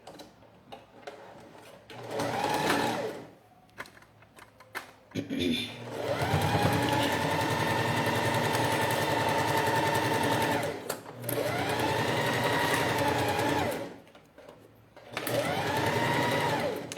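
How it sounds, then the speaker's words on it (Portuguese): A sewing machine stitches through plastic and TNT non-woven stabilizer in steady, rapid runs of a few seconds each, separated by brief pauses, heard close and clear with a faint hum between bursts. "eu vou costurar pelo lado do estruturador"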